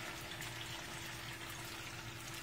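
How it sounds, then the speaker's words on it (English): Chicken broth poured over turkey wings in a home kitchen, a steady, close liquid splashing and trickling that runs without a break. "I'm adding some chicken broth."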